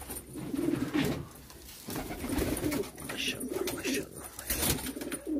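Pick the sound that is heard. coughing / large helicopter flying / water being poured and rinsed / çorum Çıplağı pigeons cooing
çorum Çıplağı pigeons cooing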